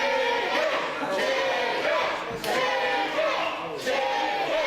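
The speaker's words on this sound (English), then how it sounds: "You can hear the crowd." A large pro wrestling crowd roars and cheers in a dense, continuous wash of voices that swells and dips, loud and filling the space.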